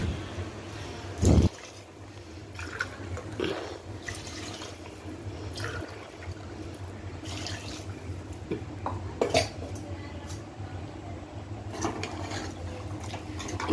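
Water splashes and trickles as it is poured into a pot for jackfruit biryani, with a clunk of cookware early on and soft liquid sounds continuing at a low, steady level.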